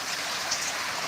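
Steady rain falling, a dense even hiss of drops on surfaces, close and constant through a brief stretch.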